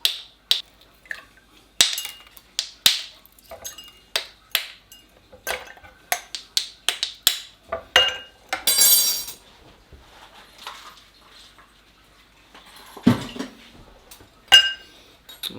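Small ice balls clink and rattle against a rocks glass while a Canadian cocktail is made with Gooderham & Worts whisky, giving a long run of sharp, close clicks and knocks at an uneven pace, a few louder clatters among them, and no talking.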